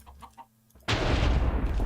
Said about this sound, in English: You have transformed into a chicken.